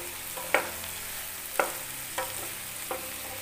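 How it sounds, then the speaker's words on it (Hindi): Maggi noodles with masala vegetables being stirred in a pan, a soft continuous frying sizzle with four sharp spatula scrapes spaced about a second apart, close and fairly quiet. "उसके बाद मैगी को डाल के थोड़ी देर उसको भी चला देना है ताकि मसाले अच्छे से मैगी में लिपट जाएँ"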